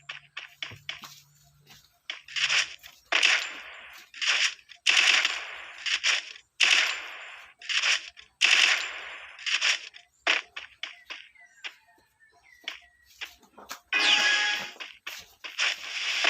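A UMP submachine gun in a video game fires repeated rapid bursts, some short and some sustained, loud and close, with brief gaps between volleys.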